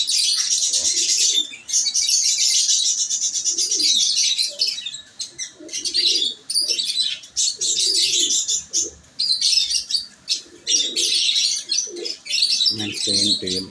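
Teddy Cross pigeons on a rooftop loft coo in low soft bursts, mixed with loud, dense chirping of other birds nearby and occasional wing flutters, while people talk.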